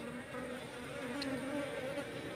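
Steady, continuous honey bee buzzing with a droning hum, fairly close and uninterrupted, like bees swarming around a hive.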